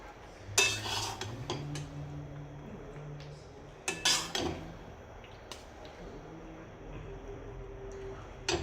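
Fried matki, spiced moth beans, is scooped from a pan with metal utensils, giving a few sharp clinks and scrapes in short clusters against a quiet kitchen background.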